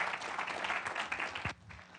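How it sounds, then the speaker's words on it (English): Audience applause after a talk on municipal performance measurement, a dense patter of clapping that cuts off abruptly near the end. "Let's give a warm applause for Wade."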